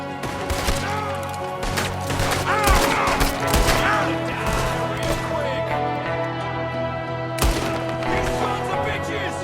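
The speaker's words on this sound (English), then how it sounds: "There's another one shooting from a window." Gunfire from an enemy shooting out of a window in a Western action video game, with a dense burst of shots near the start, more scattered reports and a sharp crack near the end, over a busy game soundscape with faint voices.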